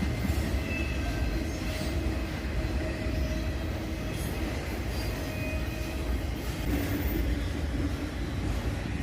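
Long CSX freight train of auto rack cars rolling past nearby, a continuous heavy roar of wheels on rails with faint intermittent squeals and rattles, no voices.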